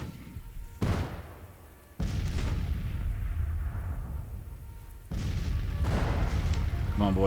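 Artillery fire in Grand Tactician: Civil War, with distant cannon booms and rumbling bursts that shift as the scene changes, under a steady battlefield din.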